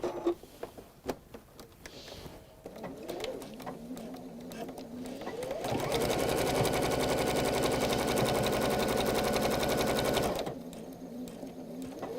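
A sewing machine stitches straight across the boxed bottom corner of a fabric pouch, a steady loud mechanical whir lasting several seconds after quieter handling and fabric rustling.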